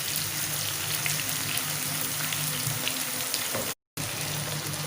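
Half-browned onions and freshly added tomato paste fry in a pan for a goat brain dish, making a steady close sizzle with fine crackling and a brief dropout near the end.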